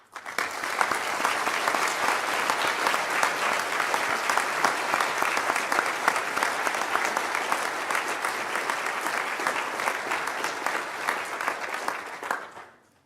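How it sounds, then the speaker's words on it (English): A hall full of people applauds steadily at a Liverpool University graduation ceremony, honouring the graduates' supporters; dense, even clapping runs loud for about twelve seconds before tapering off at the end. "let's underline that with a well-meant round of applause"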